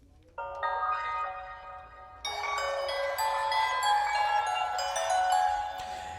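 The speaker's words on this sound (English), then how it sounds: "It was a cool bell sound, very different, very open." A bright synthesized bell chimes in two struck layers, the second fuller, with shimmering overtones that ring on and sustain openly.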